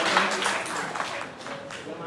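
Audience clapping for a man who won a 500-kilometre marathon cycling event, a short burst of applause that is loudest at the start and gradually thins out.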